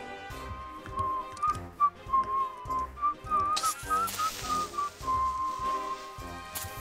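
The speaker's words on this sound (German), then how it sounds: "Ich musste gerade pfeifen zu der Musik." A person whistles a wavering melody along with Minecraft background music, the tune rising and falling in short phrases over the steady musical accompaniment.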